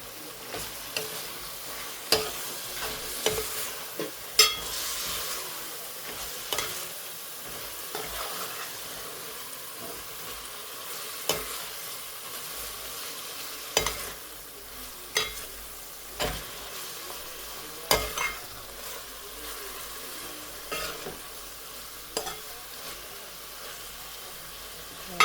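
Quiet sizzling of fenugreek frying in spice masala in a pan over high heat, with a spoon scraping and stirring at irregular intervals throughout.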